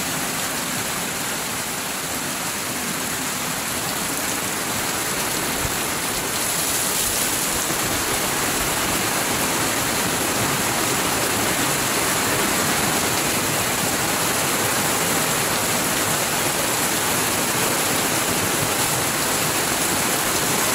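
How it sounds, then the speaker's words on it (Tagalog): Heavy rain pours down steadily and loudly in a provincial Philippine town, a dense unbroken hiss of water on surfaces that lasts throughout with no voices. "Lakas ng ulan guys."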